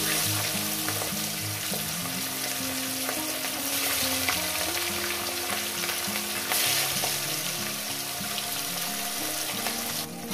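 Fish fry in hot oil in a pan, a loud continuous sizzle and crackle right up close, with the faint sound of someone speaking underneath.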